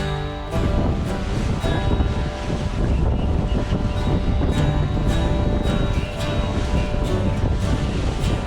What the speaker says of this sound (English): the wind is picking up quite a bit